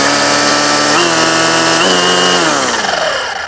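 A Greenworks string trimmer runs loudly in its first mode, a steady high electric whine that shifts pitch a couple of times before starting to wind down, close up and with no talk.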